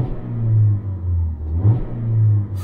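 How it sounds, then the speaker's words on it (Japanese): A Mazda Roadster engine starts and idles with a steady low rumble, brief revs swelling and settling, heard close with no talk. "吸気音かな、エンジン音少しハードになった感じ"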